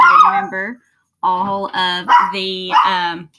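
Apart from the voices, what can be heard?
small dog barking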